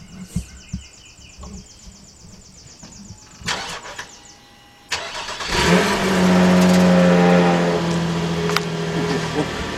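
A 2007 Nissan Murano 3.5-liter engine with a new muffler cranks and fires up, then settles into a loud, steady idle with a deep exhaust rumble after a few quieter clicks and knocks.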